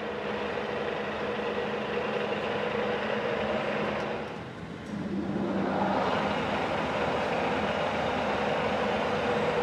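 A TOS FA5V vertical milling machine running at 560 rpm gives a steady, broadband mechanical hum and whir that dips briefly partway through, then resumes, continuous and fairly loud with no voices.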